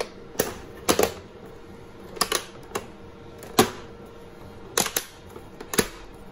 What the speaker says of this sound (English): So you're going to hear some cracks when I start pressing it.